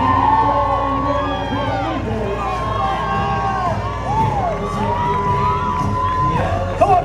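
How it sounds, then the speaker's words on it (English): Spectators cheer and shout near the London Marathon finish line, a dense, steady roar of crowd noise with whoops and voices throughout, loud and close. "Keep cheering them on."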